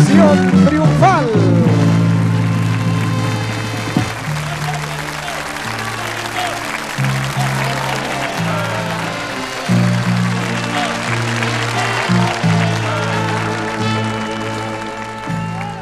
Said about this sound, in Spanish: Y aquí llega entre aplausos María del Pilar. ¡Que venga esa ovación triunfal!